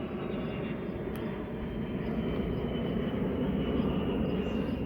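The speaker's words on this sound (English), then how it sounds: "there's an airplane going over" An airplane passes overhead above an outdoor tomato garden, a steady broad rumbling drone that holds at a moderate, even level throughout with no voices.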